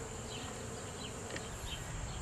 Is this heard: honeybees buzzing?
yes